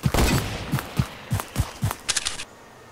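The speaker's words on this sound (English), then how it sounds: "I'm being shot at" Video game gunfire in a rapid fusillade, sharp repeated shots in bursts with a quick cluster near the end, loud and close with no talk over it.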